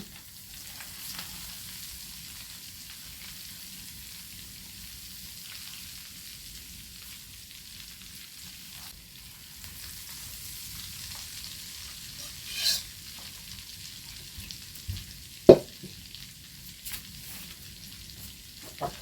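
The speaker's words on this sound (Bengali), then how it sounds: "বাদ বাকি মশলা দিয়ে এই নাড়াই দেব" Spices fry and sizzle in hot oil for homemade fishing bait, a steady soft hiss with occasional clinks and scrapes of stirring, heard alone without talk.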